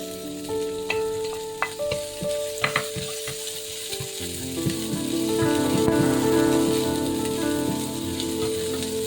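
Bitter gourd (ampalaya) stir-fried in a pan at home, a steady loud sizzle with scattered clinks and scrapes of a utensil early on, the frying swelling louder and denser in the second half.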